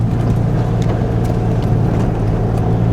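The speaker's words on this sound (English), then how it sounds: "Driving a standard with a camera in a hand is pretty tough" A manual-transmission car rolls along on nearly bald tires, its steady low engine drone and road rumble filling the scene at close range with no voices.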